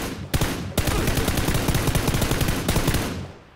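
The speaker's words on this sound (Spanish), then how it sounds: "¡Disparo!" Gunfire in the video game PUBG (PlayerUnknown's Battlegrounds), a loud rapid burst of automatic shots rattling continuously for about three seconds after two separate opening shots, then tailing off.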